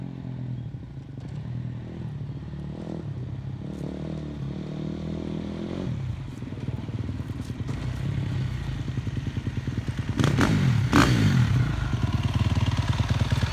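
A dirt bike engine idles and revs continuously nearby with some clattering, building louder toward the end with a couple of sharp throttle surges.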